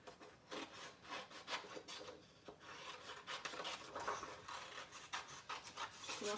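Scissors or a blade cutting through a paper craft card, a close, continuous rasping and rubbing with short repeated strokes, heard alone without talk.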